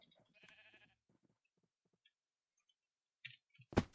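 A sheep bleats in the block-building game Minecraft, a short, quiet, wavering call near the start, then silence and a few soft clicks before a loud burst of game noise at the end.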